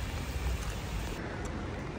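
Steady rain falls at night near a bridge on Awaji Island, a continuous hiss of drops with no breaks, moderately loud and even throughout.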